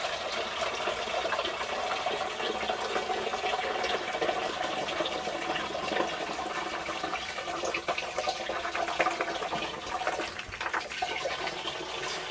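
Tap water gushing steadily into a brewing container, filled to the first marked line at four quarts, a gallon of water for home beer brewing; a continuous close hissing pour with no speech.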